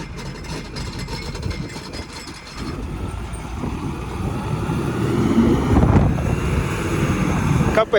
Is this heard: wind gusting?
yes